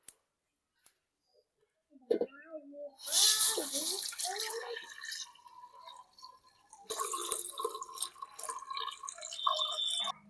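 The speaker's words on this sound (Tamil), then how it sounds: "ஆட்டி வச்ச ராய் பாலை ஊற்றிக்கலாம்" Ground ragi milk is poured into a pan of dissolved sugar while making ragi kova. A splashing, trickling liquid sound starts after a few faint clicks and runs steadily, fairly close, with a short pause before a second pour.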